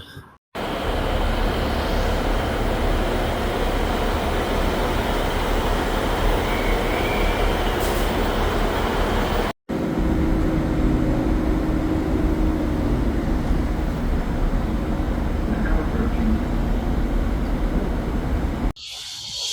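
A train runs on the way to Manchester, heard as a steady, loud, broadband rumble from inside the carriage. The roar continues almost unbroken, apart from two abrupt cuts, and no one speaks.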